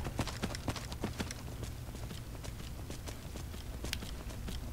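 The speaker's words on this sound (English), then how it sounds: "This horse must get tired a lot faster than Shadowmere." Horse hooves gallop in the video game Skyrim Dawnguard, a quick, fairly faint clip-clop rhythm of hoofbeats running continuously over a low game ambience, with no talking.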